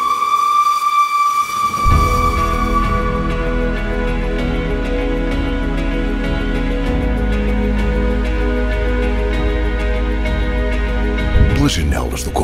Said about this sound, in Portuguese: sinta o rugir da locomotiva a vapor e ouça o seu apito nostálgico